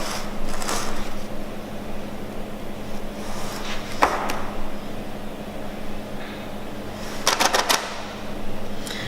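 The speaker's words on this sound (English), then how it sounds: "I'm just going to spread it out into the cake tin using my spatula." A spatula spreads Victoria sandwich cake batter in a cake tin with soft scraping and a few sharp taps and clicks against the tin, close by over a faint steady kitchen hum.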